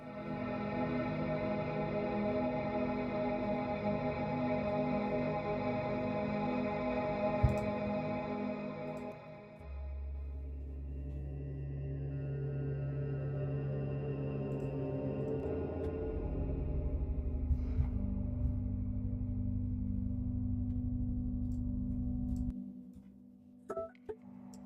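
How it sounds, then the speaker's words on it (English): A synth pad preset called Galactic Resonance from the Zero-G Wonder plugin plays alone, a sustained, layered, shimmering drone with deep low swells that enter midway and a fade near the end. "starting with Galactic Resonance"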